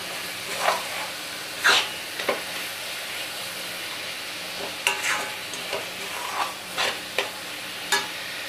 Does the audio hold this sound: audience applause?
no